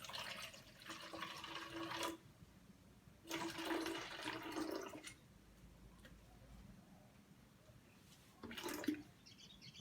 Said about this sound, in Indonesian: kita tuangkan setengahnya ke dalam sebuah wadah.